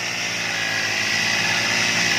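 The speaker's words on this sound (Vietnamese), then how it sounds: "Cắt cỏ để cho công viên xanh sạch đẹp." A lawn mower cuts grass in a park, its engine holding a steady, loud, continuous drone with a constant mechanical hum and no pauses or voices throughout.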